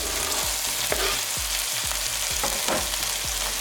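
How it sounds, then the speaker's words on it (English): Garlic fries in a pan for chicken fried rice, giving a close, continuous sizzle with repeated stirring scrapes and no talk. "So we'll add the garlic now."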